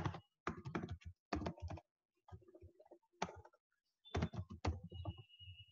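Quiet keystrokes on a computer keyboard come in short clustered bursts with gaps as a chart title is typed. The clicks are close and soft.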